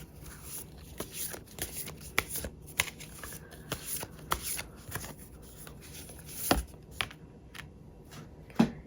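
Tarot cards being shuffled before one is drawn, a close rapid run of soft papery riffles and taps with a few sharper snaps, no talking.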